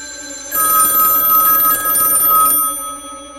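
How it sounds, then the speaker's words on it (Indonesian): A telephone rings loudly with a bright electronic trill that starts abruptly, holds for about two seconds, then cuts off. "Bona mendengar teleponnya berdering"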